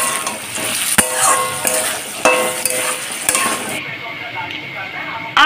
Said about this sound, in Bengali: আলু পেঁয়াজটা ভাজা হতে আরো একটু সময় লাগবে।